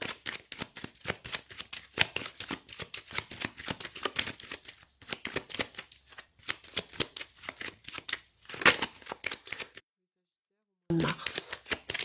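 A deck of tarot cards being shuffled and cut in rapid, crisp riffling bursts, with brief pauses between rounds and a moment of near silence.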